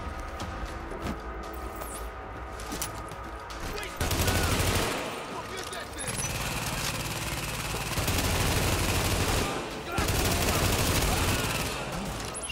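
Bursts of automatic gunfire crackle in rapid volleys during a firefight in the video game The Division, loud, close stretches of shooting separated by short quieter gaps.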